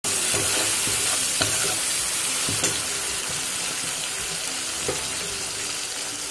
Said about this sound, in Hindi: अब इसमें हल्दी ऐड करूंगी, नमक ऐड करूंगी और टमाटर, इन सबको भून लूंगी।